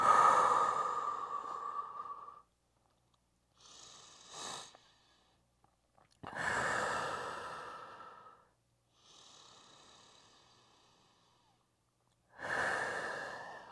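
Slow, deep breathing during a breath and mobility exercise: long, airy inhales and exhales come in several separate breaths, close to the microphone and soft, with silent pauses between them.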